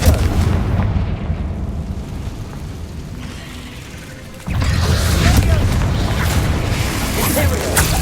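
A Confringo blasting spell in Hogwarts Legacy strikes a barricade: a dull rumbling stretch gives way to a sudden loud burst and a sustained crackling roar of debris, with a voice speaking near the start.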